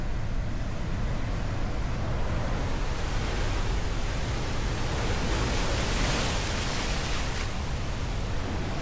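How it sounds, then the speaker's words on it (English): Huge ocean waves surge on a rocky shore by a natural tidal pool in Eleuthera, Bahamas, a loud, unbroken roar of surf with a brief swell in the rush toward the end. "These waves are huge."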